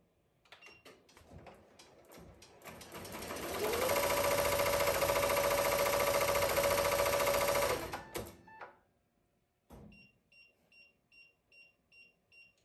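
A Ricoma MT1501 embroidery machine stitches steadily and fairly loudly for several seconds with a continuous whirring hum, then stops. A few short beeps and clicks follow.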